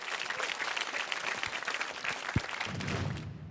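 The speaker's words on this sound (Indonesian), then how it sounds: "Beri tepuk tangan yang meriah untuk Paduka." An audience at a televised stand-up comedy open mic show breaks into applause, a full, sustained burst of many hands clapping that fades out near the end.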